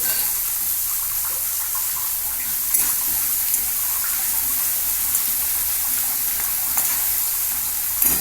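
Sugar and a sweet fry in a hot pan, a loud, continuous hiss and crackle up close, steady from start to end.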